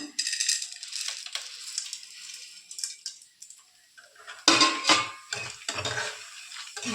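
Peanuts rattling and scraping as they are fried and stirred in a pan, irregular bursts of clatter with quieter pauses between, heard up close.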